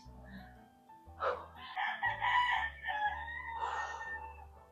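A rooster crows once nearby, a drawn-out strained call, with low electronic tones sounding throughout.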